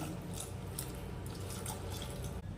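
A steady, close stream of water pours and splashes continuously into a cooking pot for a couple of seconds, with no talking.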